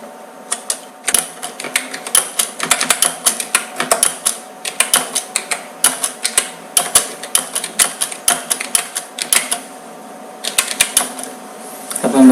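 Someone types steadily on a computer keyboard in Notepad. The key clicks come close and crisp in fast, uneven runs, with short pauses between bursts.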